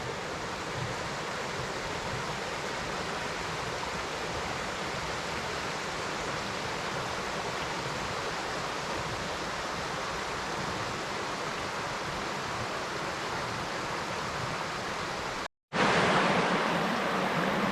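A creek flowing over rocks beside the Woodhaven hiking and biking trail in Fairfield Bay, Arkansas, makes a steady, loud broadband rush without pause, cut by a brief dropout near the end, with no voices.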